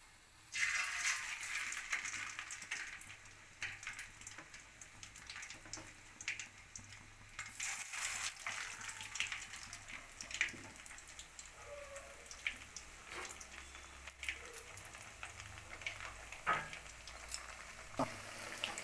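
Semolina and boiled potato snacks frying in slightly hot oil, a steady soft crackle with scattered pops and occasional clinks of a utensil, continuous and fairly quiet throughout.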